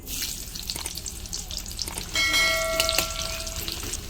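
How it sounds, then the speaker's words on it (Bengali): Chopped onions crackle and sizzle steadily in hot oil in a wok, loud and close, with a brief metallic clink partway through and no voices. "কড়াইয়ের মধ্যে আমি পরিমাণ মতন তেল দিয়ে দিচ্ছি ধরো আমার তেলটা গরম হয়ে গেছে আর তেলের মধ্যে দিয়ে দেবো এবার পেঁয়াজ কুচিগুলো"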